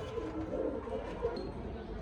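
Soft low pigeon cooing from show pigeons of racer and fancy breeds, repeating a few times under a steady, murky room background with no talk.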